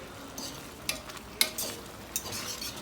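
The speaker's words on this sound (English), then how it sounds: "so that 1 egg was more than enough, and you just keep stirring it." A spoon stirs Dominican stewed eggplant with egg in a sizzling pan, with several soft scraping strokes at irregular intervals over steady frying noise.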